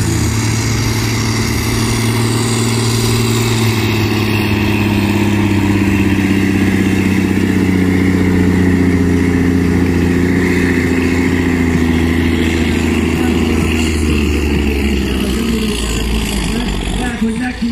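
A heavy engine runs hard at a bus pulling contest during a tractor-pull event, its deep steady drone and rising harmonic whine carrying loud and continuous, with crowd noise and announcer talk mixed faintly underneath.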